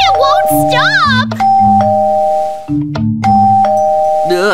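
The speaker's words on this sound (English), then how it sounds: "It keeps ringing the doorbell! It won't stop!" Electronic doorbell chimes in a Minecraft game ring repeatedly in a steady sequence, loud and close, with excited voices talking over them.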